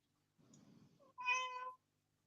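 A cat gives a soft low murmur followed by one clear, close meow, quiet and alone.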